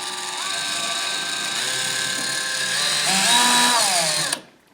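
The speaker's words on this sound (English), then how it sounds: "We're just going to drill another one here." A power drill whirs steadily for several seconds while drilling holes for recessed lighting, its pitch rising and dipping as the load changes, then winds down and stops.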